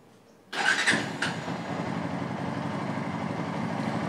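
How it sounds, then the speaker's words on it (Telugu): A motorcycle engine, just after an oil change, cranks and fires with an abrupt burst, then settles into a steady, even idle that runs on close by. "ఆయిల్ చేంజ్ చేసినాక స్టార్ట్ చేద్దాం ఒకసారి"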